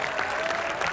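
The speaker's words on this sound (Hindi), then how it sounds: "जोरदार तालियों के साथ स्वागत किया जाए" Steady applause from an audience welcoming a speaker onto the stage at a Diwali celebration at a defence academy, dense and continuous for the whole short stretch.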